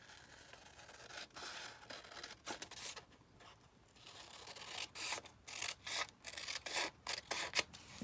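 Scissors cutting out a traced paper envelope, a series of close, crisp snips and paper rustles in uneven bursts, quiet overall.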